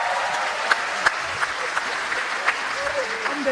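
An audience at a motivational event claps in a steady wash of applause, with a few sharper individual claps popping out and a voice faintly audible underneath.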